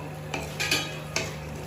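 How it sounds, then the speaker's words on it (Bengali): Soybean chunks frying in a wok, a faint low sizzle under a few soft scrapes and taps of a spatula stirring. "তো সয়াবিনটা একটু ভেজে টেজে নিয়ে নেবো।"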